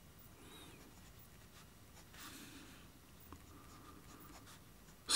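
A Parker 51 fountain pen in black with gold trim and a fine hooded nib scratches softly across paper, faint continuous strokes with brief pauses, close and quiet, ending in a sudden louder knock.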